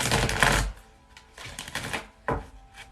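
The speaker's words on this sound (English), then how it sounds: "shuffle once more." A deck of tarot cards riffled and shuffled in a few quick bursts, crisp and close, with short pauses between them.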